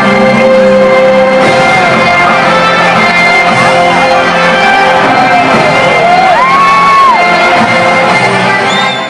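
A huge football stadium crowd of Corinthians supporters roars continuously, with loud shouts, whoops and cheering swelling over a dense wall of voices.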